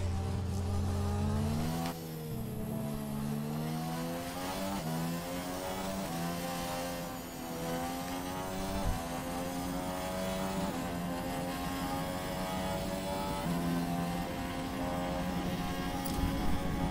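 A Toro Rosso Formula 1 car in a racing video game, its high-pitched engine holding a sustained whine that rises and falls through gear changes and corners, loud and continuous throughout.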